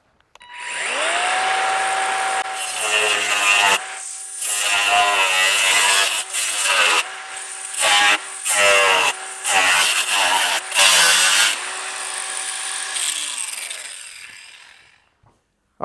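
Power tool cutting Model A door sheet metal in rust repair, a loud close whining motor with harsh grinding bursts as the blade bites, spinning up, cutting in repeated stops and starts, then winding down.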